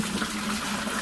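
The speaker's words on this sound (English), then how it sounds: "You want to pour 4 cups of hot water into the bucket" Hot water pours steadily into a bucket, a continuous close gushing splash with no breaks, made while mixing homemade laundry detergent.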